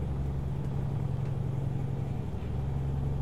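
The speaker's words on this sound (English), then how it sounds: "Truck sounds really quiet though, where it's like we're idling." A truck engine idling in American Truck Simulator, a low, steady rumble that stays quiet and even throughout, with no voices over it.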